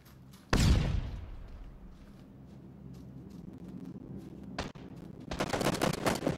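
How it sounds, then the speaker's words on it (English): An Uzi fires in the PUBG video game. One sharp shot opens the clip and fades into a rumbling tail, a quieter stretch follows with a brief crack, then a rapid automatic burst rattles loudly at the end. "I'm gonna get him with the Uzi."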